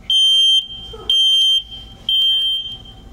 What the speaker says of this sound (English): Do you all know what a fire alarm is?